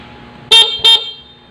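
Two short, loud stock car horn honks in quick succession, bright and close, followed by quiet idle background.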